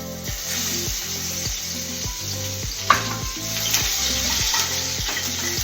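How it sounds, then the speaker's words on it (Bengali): Chopped onions fry in hot oil with panch phoron, dried red chillies and bay leaves, a steady close sizzle with a bright hiss, broken by a single sharp clink midway. "এবার এর মধ্যে আমি দিয়ে দেবো কিছু কেটে রাখা পেঁয়াজ"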